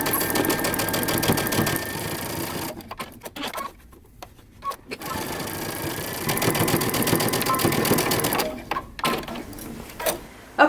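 A sewing machine runs a 5/8-inch seam across the shoulders of a moto jacket, whirring steadily for a couple of seconds, pausing, then stitching again in a longer close, continuous burst.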